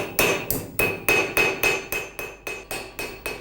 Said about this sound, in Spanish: A martillazos en el yunque es como Miguel endereza las piezas deformadas por el corte de la tenaza